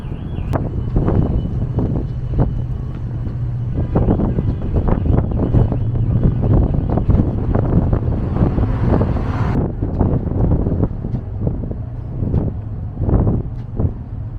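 Steady wind roar buffets the microphone on a ship pulling out of port, with a low drone of the vessel beneath, loud and continuous throughout.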